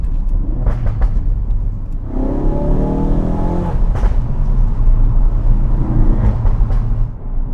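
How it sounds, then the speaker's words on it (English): A Ford Focus RS's exhaust rumbles loudly and continuously through the open roof, with a rising revving tone in the middle and steady engine drone throughout. "Open it right up, and you really do hear the exhaust."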